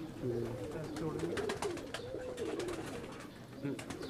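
Pigeons coo in soft, repeated rolling calls at close range among a champion fancier's birds, with someone talking over them throughout.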